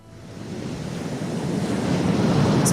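A steady, swelling roar of big ocean waves heard from aboard a ship at sea, with broadband wash and wind noise building gradually louder throughout and no voices.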